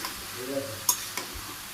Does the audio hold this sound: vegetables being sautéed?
yes